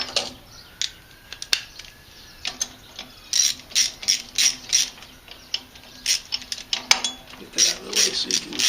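Socket wrench ratcheting on a bolt during a Wheel Horse 312-8 garden tractor repower, with repeated bursts of quick metallic clicks between pauses, close and clear, plus occasional tool clinks.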